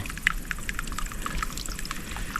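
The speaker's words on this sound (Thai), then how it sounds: "เห็นไหมยังมีน้ำไหลอยู่นะครับ" Water trickles and drips inside a cave in the Phu Phan mountains, a close, continuous patter of small splashes and droplets with no one speaking.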